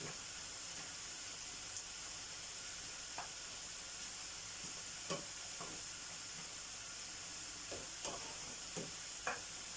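Onions sautéing with tomato paste in a pan on high heat give a quiet, steady sizzle broken by scattered spatula scrapes and taps, with no talking.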